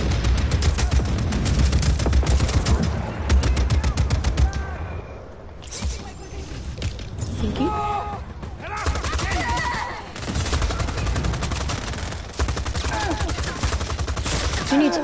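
Rapid machine gun fire from defender guns in the video game Just Cause 4, dense bursts running over several seconds with a brief lull midway, with a voice talking over parts of the firing.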